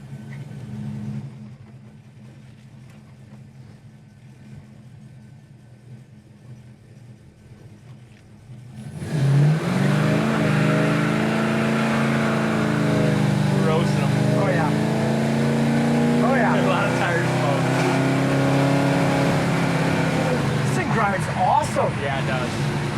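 A 1970 Dodge Charger 500 drives down the road, its engine note quiet at first, then rising into a steady, loud rumbling drone with shifting pitch as it accelerates and cruises, lasting to the end.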